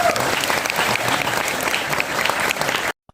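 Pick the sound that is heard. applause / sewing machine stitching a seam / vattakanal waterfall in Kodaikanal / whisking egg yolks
applause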